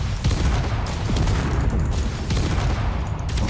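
Explosions in the Space Engineers video game blasting open a secret corridor, a dense continuous barrage of loud booming, crackling blasts that rumble on without pause.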